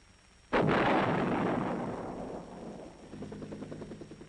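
A single heavy artillery gun fires in Vietnam combat, a loud close boom whose roar rolls and decays over a couple of seconds, followed by faint distant rumbling and low mechanical noise.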